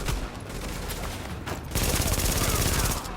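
MP7 submachine gun fired in the video game The Division: a dense, continuous stream of rapid automatic gunfire filling the whole stretch, growing louder and fuller about halfway through, with a voice speaking faintly underneath.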